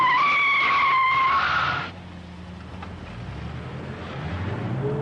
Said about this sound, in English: Okay, now let's try the BMW's brakes.